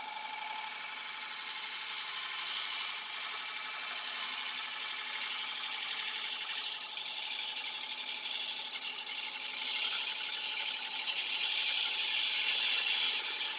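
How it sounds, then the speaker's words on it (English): A woodturning ball gouge is sharpened on a grinder, giving a steady bright whirring hiss that keeps going and grows slightly louder toward the end. "Now I'm just going to get a fresh edge on this ball gouge."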